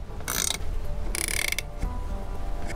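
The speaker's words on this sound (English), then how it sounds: "We're gonna first hand tighten it, and then you're gonna grab your 19mm wrench." A 19mm wrench turns a plastic air intake fitting on a Toyota Tacoma, giving two short, close bursts of ratcheting clicks over a steady low background hum.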